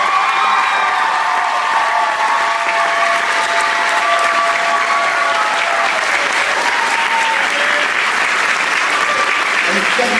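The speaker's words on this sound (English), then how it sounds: "So a very big round of applause for Miss Murphy." A theatre audience at a school production of The Mystery of Edwin Drood claps loudly and continuously for a staff member, a dense, sustained wall of applause with some cheering and voices mixed in throughout.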